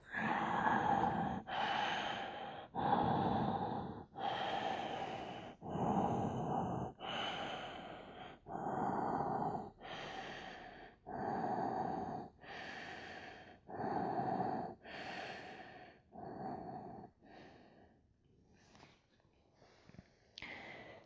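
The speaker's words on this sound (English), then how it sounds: "Breath should be very audible because that chin is kind of tucked in towards our chest." Slow, deep yoga breathing with the chin tucked toward the chest, each loud breath cycle repeating about every two seconds, close and alone with no talk, softening toward the end.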